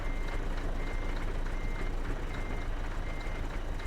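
Steady truck reversing beeps from a Scania 4 Series in Euro Truck Simulator 2 repeat rapidly over a constant engine rumble, loud and continuous with no talking.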